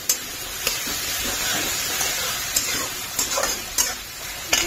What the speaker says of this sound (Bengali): একটুখানি ভাজা ভাজা হয়ে গেলে দেবো টমেটো, তারপরে দিয়ে দেবো পুরো চিকেনগুলো।